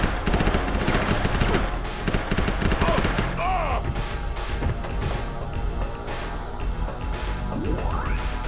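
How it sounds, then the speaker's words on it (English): Gunfire in the video game Mortal Kombat: Special Forces, dense rapid bursts of shots over a loud, busy game soundtrack throughout, with crashes and swooping effects mixed in. "Kind of weird shooting like this, but it's kind of how you shoot a gun for real though."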